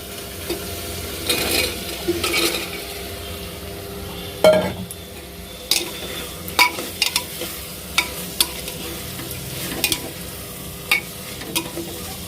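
Spice paste sizzles steadily in a pan while a spoon scrapes and stirs in short, irregular strokes, fairly close, the paste being well fried.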